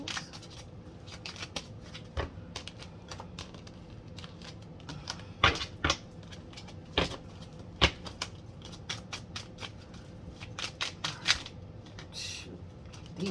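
Tarot reading cards are shuffled by hand in a quiet room, with soft riffling and crisp irregular slaps and taps of the cards coming close and fairly quiet, in uneven bursts with no talking.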